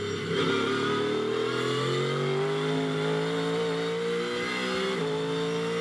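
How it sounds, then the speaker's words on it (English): A Ford Mustang GT3 race car in its first season runs during GT Europe pre-qualifying at the Nürburgring, its loud, steady engine note droning with strong harmonics and gently rising and falling through the gears, with no voices over it. "if you want the best sound, well, to our ears, the Ford Mustang appears to have that"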